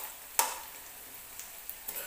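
Onions frying in a pan for a chicken dish, a faint steady sizzle with a sharp scrape or tap of a spoon stirring, followed by a few lighter clicks.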